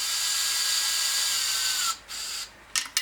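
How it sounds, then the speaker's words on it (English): A thread tap cutting fresh threads into a fitting hole on a turbo Miata kart build, a steady high whine that stops, briefly resumes, then ends with a few short scraping bursts. "That's all nice and brand new threads cut in there."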